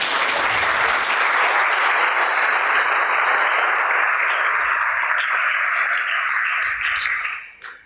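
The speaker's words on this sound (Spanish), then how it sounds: "pueden aplaudir" An audience at a university talk bursts into sustained, dense applause, loud and even throughout before fading out at the end.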